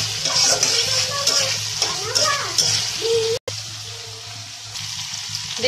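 Masala frying down for pigeon curry, a soft bubbling sizzle with stirring scrapes close by, continuing steadily under a voice speaking.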